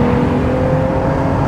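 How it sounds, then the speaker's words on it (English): A Ferrari LaFerrari's engine roars loud and close in one continuous, steady drone, with no distinct gear changes standing out. "The downshifts sound amazing."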